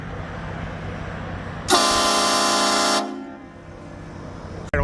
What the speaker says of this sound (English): But I want to hit the train horn.